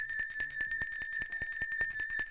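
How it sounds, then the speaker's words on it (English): Liberty Bell rung for a big play in an Eagles vs. Vikings football game livestream, struck in a fast steady series of bright ringing hits that carry on for a couple of seconds, close and loud. "We ring the Liberty Bell."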